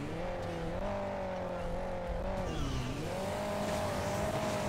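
The Super Diesel vehicle's engine in Hill Climb Racing 2 drones loudly and continuously, its pitch rising and dipping as the revs change, with a buzzy tonal whine and no speech.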